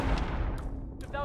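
A gunshot in the stealth video game Hitman 3, a loud close blast that rings out, with a voice speaking around it.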